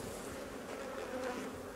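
Honey bees swarm around an opened hive during a summer honey harvest, a dense continuous buzz held steady and close, with no voices.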